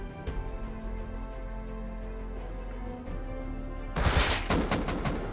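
Gunfire from a gun in the survival game Rust breaks out as a dense, loud burst of rapid shots near the end, after a steady background hum.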